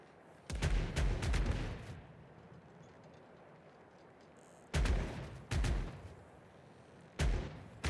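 Sailing-ship broadside cannons fire in the naval pirate game Caribbean Legend, heavy booming volleys arriving in separate clusters with a rolling rumble after each and quiet gaps between.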